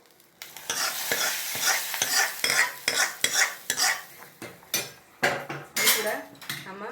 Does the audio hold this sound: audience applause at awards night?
no